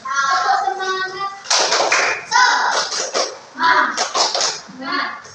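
Schoolchildren in a classroom perform a rhythmic spirit clap, with bursts of sharp claps alternating with their chanting voices in short, evenly spaced groups, loud and close.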